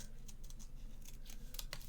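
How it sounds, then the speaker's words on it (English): Scissors snip through paper in a series of quick, crisp cuts, close by and with no one talking. "try and maneuver your scissors, because that doesn't seem to work"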